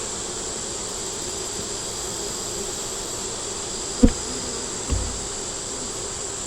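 Honeybees at an open hive with pollen and nectar in the comb give off a steady, continuous buzz, close and even throughout, broken only by two brief low knocks near the end.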